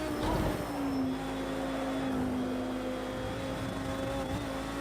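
A GT3 race car engine in the racing game Project Cars 2 drones steadily at high revs, its pitch holding fairly level with slight shifts, loud and continuous throughout with no talking.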